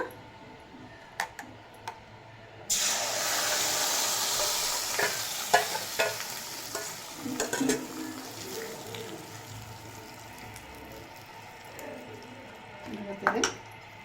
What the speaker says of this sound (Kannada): ಈಗ ಮಿಕ್ಸಿ ಹಾಕಿ ರುಬ್ಬಿಟ್ಕೊಂಡಿದ್ದು ಹಾಕೋಣ